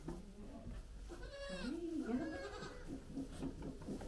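Young dairy goat kids bleat, a close wavering cry in the middle followed by shorter quieter calls, over low background noise with a soft voice nearby.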